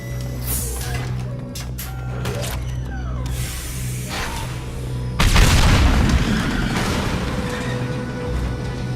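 Tanks blowing up during a Mass Effect 2 firefight: a heavy boom hits about midway and rolls into a long, loud rumble, with a steady low machine hum and scattered crackling and thuds before it.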